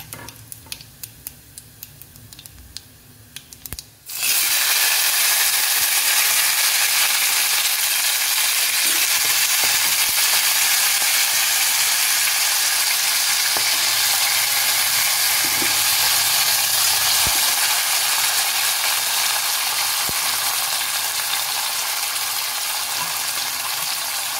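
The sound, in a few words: washed eggplant added to pan with fried garlic, sizzling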